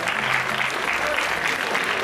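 Steady, dense applause from a tournament audience welcoming a player, sustained and even throughout without a break.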